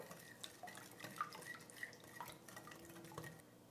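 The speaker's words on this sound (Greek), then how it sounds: "και ανακατεύουμε" Cake batter flavored with cinnamon, vanilla and orange zest is stirred in a bowl by hand, soft wet scraping and light clinks of the spoon against the bowl repeating at close range without talk.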